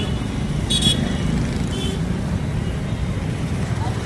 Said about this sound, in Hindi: देखिए सुबह सुबह का दोपहर का ट्रैफिक है पूरा